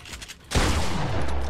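Gunfire in the Fortnite video game, a sudden loud burst of rapid shots breaking in after a quieter moment and continuing as a dense fusillade.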